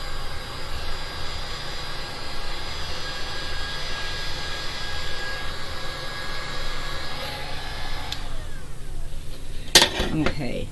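A heat gun blows over freshly poured resin coasters to pop surface bubbles, a steady loud whooshing hiss with a faint whine that cuts off near the end, followed by a brief clatter.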